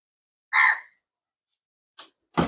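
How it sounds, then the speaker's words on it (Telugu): A crow caws loudly once nearby, followed after a pause by two shorter, fainter calls, outdoors at a hotel in Nagarjunasagar with no talking. "వెల్కమ్ అని ఉంటుంది కాకి"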